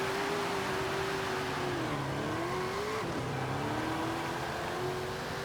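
A front-wheel-drive American classic car launches and accelerates hard in Forza Horizon 5, its engine a loud, steady drone whose pitch sags at each gear change and then climbs again.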